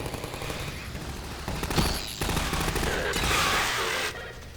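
Turrets firing in Half-Life 2, rapid continuous bursts of automatic gunfire with a dense rattling texture, loud and sustained, swelling partway through and cutting off near the end.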